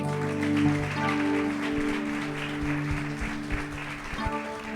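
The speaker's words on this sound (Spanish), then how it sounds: "Dele un aplauso al Señor." Applause from a church congregation, a steady wash of clapping through the whole stretch, with sustained musical tones from keyboard or organ playing beneath it.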